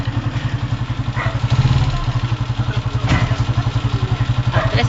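A motorcycle engine idles nearby with a steady, pulsing low rumble, loud throughout, with a few clattering knocks and faint background voices.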